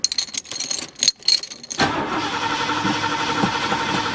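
An old engine on a piece of farm iron cranks in uneven bursts, then catches and runs with a steady, rough idle; the fuel supply to the carburetor is faulty.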